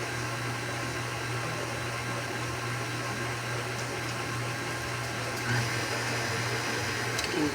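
A mixer churning cinnamon roll dough ingredients gives off a steady, moderate whirring drone that runs unbroken with no talk over it.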